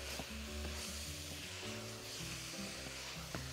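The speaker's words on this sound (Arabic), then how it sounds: "ندي تقليبه" Curry chicken frying in a pan gives a soft, steady sizzle under light stirring, quiet and close, without speech.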